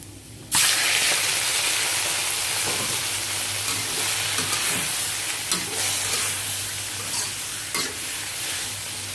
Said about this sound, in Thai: อันนี้หอมหัวใหญ่นะคะ แล้วเราผัดก่อนนะคะ